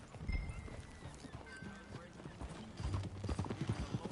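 Hooves clop in an uneven rhythm at moderate distance, mixed with low rumbling movement and faint background tones, fairly quiet overall, in Red Dead Redemption 2.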